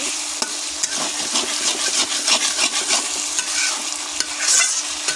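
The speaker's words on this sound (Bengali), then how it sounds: "একটু করে তো নেড়ে নেড়ে আলুগুলো ভেজে নিতে হবে" Potatoes sizzle steadily in a pan while a utensil scrapes and stirs in irregular strokes, close by and fairly loud, with no talking.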